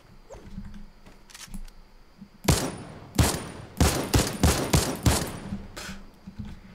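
Gunshots in a video game ring out as a quick volley of sharp, loud cracks. Fainter background game noise comes before and after the volley.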